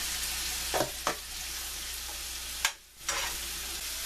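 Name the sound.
mushrooms and zucchini sizzling in a pan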